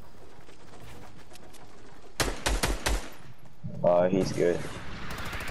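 Gunfire in Fortnite, a short burst of several sharp rapid shots midway after a quiet stretch, followed by more game sounds while a player talks over it.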